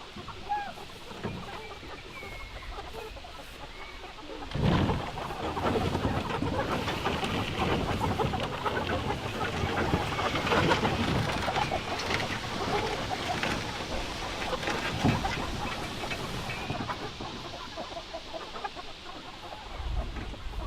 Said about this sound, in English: I'm trying to zigzag around these trees to have the chickens out on pasture here